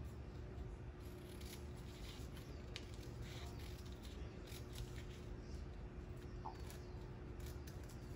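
Quiet, repeated snips of scissors cutting a sewing pattern from paper, irregularly spaced over a soft background hiss.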